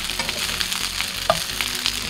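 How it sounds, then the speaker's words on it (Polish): Zucchini and millet cutlets fry in fat in a pan, giving a constant close sizzle with small pops and crackles and no voices. "więc smażę je na tłuszczu."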